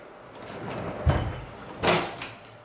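A makeup drawer is handled, giving two sliding, thudding knocks about a second apart against a soft room background.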